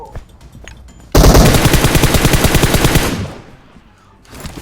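A rapid burst of automatic gunfire from a video game, loud and close, rattling steadily for about two seconds before trailing off, with no talk over it.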